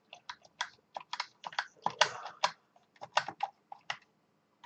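Keys pressed one after another on an Atari 1200XL keyboard during a keyboard test, crisp separate clacks in an uneven rhythm, close and fairly quiet, with no talk.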